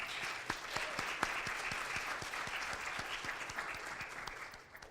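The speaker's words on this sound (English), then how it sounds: "I just want a round of applause for the youth who agreed to do this" A round of applause from the audience at a youth civic summit, a fairly distant, even patter of many hands lasting about five seconds and fading out at the end.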